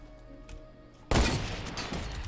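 Gunfire in Fortnite Battle Royale: a sudden loud burst of shots erupts after a second of quieter game ambience and keeps rattling to the end.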